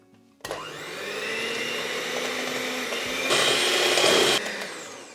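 An electric hand mixer whisks fresh double cream in a bowl, a steady close motor whine that rises and brightens partway through, then eases back as the cream thickens.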